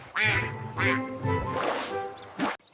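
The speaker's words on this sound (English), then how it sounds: "Quack, quack. Time for a swim." A cartoon farm duck quacks several times in quick succession, loud, close and clear, with nothing else around it.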